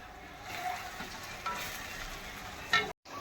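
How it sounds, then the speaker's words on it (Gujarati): Salt and coriander powder are stirred into spinach and paneer in a pan, a quiet sizzle with soft scraping strokes of a spoon and one sharper clack near the end before a brief cut. "મીઠું અને ધનિયા પાવડર આટલું નાખી અને આપણે એને મિક્સ કરી દઈશું."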